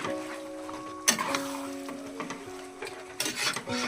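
Chili chicken stirred in a frying pan, with a spatula scraping and tapping against metal in several sharp strokes over a light sizzle and a faint steady tonal hum in the background.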